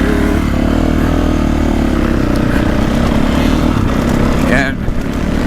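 A 2024.5 KTM 450 Factory Edition motocross bike ridden around the dry, choppy, rutted Briarcliff MX track, its engine a loud, continuous close-up drone mixed with rushing wind noise.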